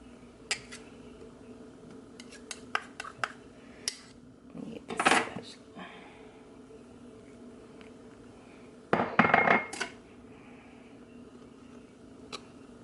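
A knife cubes butter on a cutting board for slow cooker cream corn, giving scattered sharp taps and clicks with two louder clattering bursts, close and fairly quiet.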